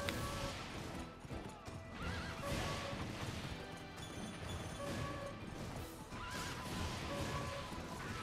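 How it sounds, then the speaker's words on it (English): A horse whinnies repeatedly over clip-clopping hooves and crashing noise as it gallops in a video game, a busy, dense mix of game audio. "Hey, free horse. Come with me, horse."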